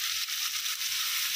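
Onions sprinkled with salt fry in a pan, giving a steady, soft, hissing sizzle with a faint crackle, close and continuous for a brief moment.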